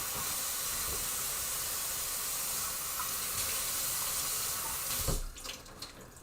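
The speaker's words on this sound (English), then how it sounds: "let's do a quick rinse" Tap water runs steadily over freshly cooked hand-pulled noodles in a sink, making a continuous rushing splash with a brief clatter of handling toward the end.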